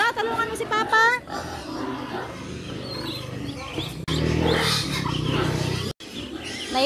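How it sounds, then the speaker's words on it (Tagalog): Loud, harsh squealing and grunting of pigs on a farm, overlapping and continuous, with a few abrupt cuts in the sound. "Naiingayan ba kayo sa ingay ng mga baboy?"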